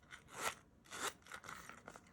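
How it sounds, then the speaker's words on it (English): The zipper on a Louis Vuitton Cles monogram key pouch is pulled in two quick, close rasping strokes, followed by a few softer, shorter zips, quiet and heard alone. "Here's the zipper."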